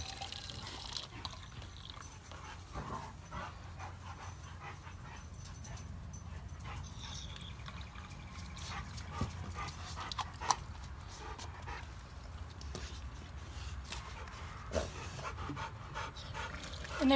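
Dogs pant steadily up close for an extended stretch, with occasional soft whimpers and small yips over a low background hum.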